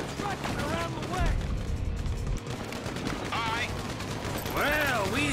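Gunfire in Grand Theft Auto V, with rapid bursts of shots and mechanical clatter mixed with other game sounds, loud and dense, while voices talk over the action.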